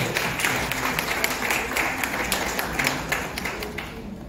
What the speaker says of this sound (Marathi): सर्वात आधी आपण त्यांना करूया आणि टाळ्या वाजवूया.